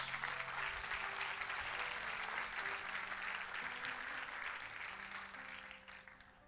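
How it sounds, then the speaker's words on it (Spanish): A church congregation at a sermon breaks into sustained loud applause, a dense even wash of clapping that tapers off toward the end. "Denle un fuerte aplauso a Dios."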